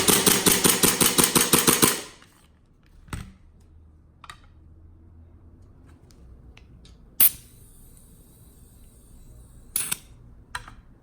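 An AMG gas airsoft gun fires a rapid burst of about ten sharp shots, followed by near-silence broken by a few isolated clicks and brief gas releases.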